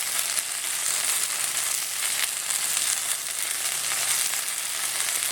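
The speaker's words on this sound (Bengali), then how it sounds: "মশলার সাথে আবারও ভেন্ডিটাকে একটু নেড়ে চেড়ে নিচ্ছি" Okra being stirred with spices and shrimp in an oiled frying pan, giving a loud, steady sizzle and hiss throughout with faint scraping of the stirring underneath.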